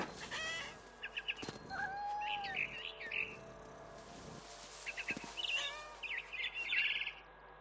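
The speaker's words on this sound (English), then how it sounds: "It was a barn swallow going back to her nest." A barn swallow chirps in the video game What Remains of Edith Finch, a run of quick high twitters and calls in scattered bursts, fairly close, over a steady game ambience.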